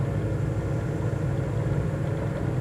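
Aircraft engine at full power in Microsoft Flight Simulator 2020, a steady, loud droning rumble held without a break.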